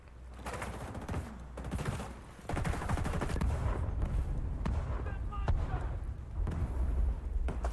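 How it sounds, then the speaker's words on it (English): Explosions and gunfire from a firefight in the video game The Division 2 crackle in sharp repeated bursts, with dense rapid blasts and booms growing louder partway through, while a voice speaks over the action. "That's a lot of explosions."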